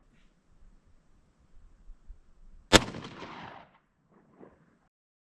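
A single loud, sharp gunshot cracks out in a bullet-stopping test against common materials, decaying quickly into a short rumble, with only faint handling rustle before and a small thud after in otherwise near silence.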